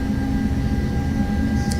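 DC-9 turbojet engines roaring at takeoff power in FSX, a steady, loud low rumble with a constant high whine, continuous and close, with a brief higher blip near the end.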